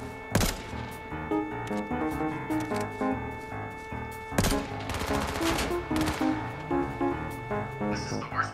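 Automatic assault rifle fire in the battle royale game H1Z1, with rapid bursts crackling over a steady bed of game music and noise and two sharp loud volleys standing out near the start and midway.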